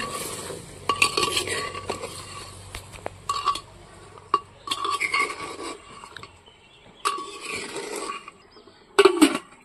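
Mutton is stirred in a cooking pot. Intermittent scraping and clinking of a utensil against the pot comes in short bursts over a soft background bubbling.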